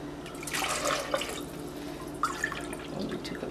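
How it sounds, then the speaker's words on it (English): Liquid is poured into a pot of pumpkin soup to thin it, making a steady, close trickling and splashing. Small drips and gurgles sound throughout the short pour. "We're gonna add some more liquid to thin it out."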